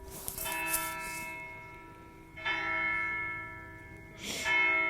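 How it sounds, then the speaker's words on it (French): Church bells ring out with sustained, shimmering tones, struck about three times a couple of seconds apart, moderately distant and alone without talk. "il y a les cloches qui sonnent"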